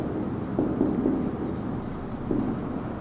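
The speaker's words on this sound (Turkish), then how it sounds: "Konuyu yazalım." Chalk writing on a classroom board, a few short scratchy strokes and taps close by over a steady room background, no talking during the strokes.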